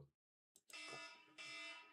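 A fire alarm goes off with a bright, steady electronic tone after a brief moment of silence, sounding in two sustained pulses separated by a short dip, fairly faint overall.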